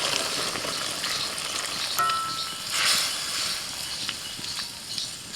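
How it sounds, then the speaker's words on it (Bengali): Steady close sizzling as poppy seed paste water is poured into greens with stalks and potatoes frying in a pan, a soft continuous hiss with light stirring clatter and no talk. "এবার আমি পোস্ত বাটার জলটা দিয়ে দিচ্ছি"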